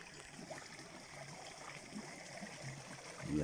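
A small stream called l'eau blanche near a forest bivouac, its water flowing with a soft, steady trickle and gurgle, faint and even throughout.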